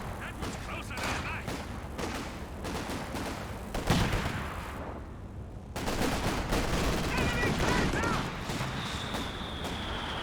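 Walking Stick rocket barrage in Company of Heroes 2, a long, dense fusillade of rapid explosive impacts rolling on for several seconds, with a brief lull midway before another heavy volley.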